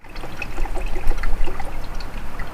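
Coolant pours steadily into the engine of a Lexus GS430, a continuous close trickling and gurgling of liquid with no talk.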